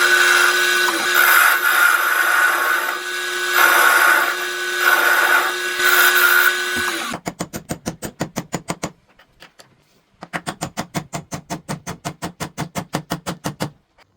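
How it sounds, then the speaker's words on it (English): Lathe cutting material from a steel drive shaft for a triple bike build: a steady, loud whirring cut first, then a rapid, rhythmic series of scraping strokes that pauses briefly before resuming. "To do this, I remove some material with my lathe."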